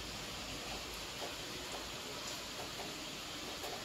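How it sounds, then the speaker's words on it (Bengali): Dense, even hiss of heavy rain falling outside, a steady broadband wash with no breaks, soft and distant. "খুব বৃষ্টি হচ্ছে।"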